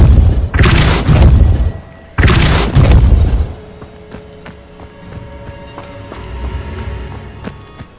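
Two heavy booming spell blasts from the Depulso force-push spell in Hogwarts Legacy, each a broad loud burst about a second long, followed by quieter clattering game sounds and scattered clicks.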